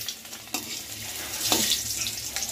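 Cumin seeds and a whole green chilli sizzle and crackle in hot mustard oil in a wok, a steady close hiss with a few soft stirring scrapes, no voices.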